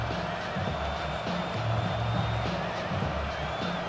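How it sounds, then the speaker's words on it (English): Stadium crowd in an American football video game, 49ers at Giants, a steady dense roar of noise throughout with a faint announcer voice beneath. "This crowd into it now as we get to third down."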